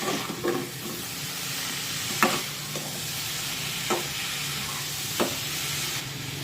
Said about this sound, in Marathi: त्यानंतर यामध्ये या मुळ्याच्या शेंगा टाकूया, मिक्स करून घेऊया